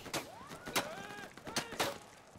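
Sharp, punchy gunfire from the tactical shooter game Insurgency, with four distinct shots spaced irregularly and ringing echoes trailing behind them.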